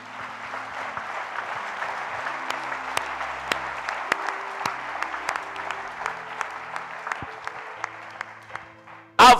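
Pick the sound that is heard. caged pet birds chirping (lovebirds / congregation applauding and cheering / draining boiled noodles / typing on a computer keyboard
congregation applauding and cheering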